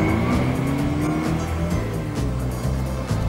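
Vauxhall Viva GT engine pulling hard, a loud steady growl that steps up in pitch through several gear changes, close and continuous.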